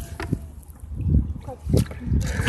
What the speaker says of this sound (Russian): сейчас я плаваю на лодке и сама грибу.